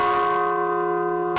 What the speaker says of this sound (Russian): Первый удар в самый старый колокол ансамбля.